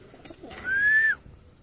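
Pigeons in a loft give a single drawn-out coo lasting about half a second, fairly clear and close, with faint rustling and soft background noise around it and no talking.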